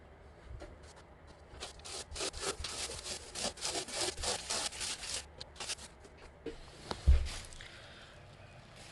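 A handsaw cuts a piece in half during floor prep, a run of quick rhythmic back-and-forth rasping strokes, close and fairly loud, ending with a thump as the piece drops.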